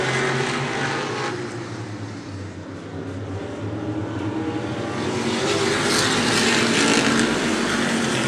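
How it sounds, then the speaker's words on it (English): Short track race cars roar around an oval in a steady, dense engine drone heard from a distance, the pack's noise swelling slightly as the field takes the green flag. "Trevor Blow brings them down to the green."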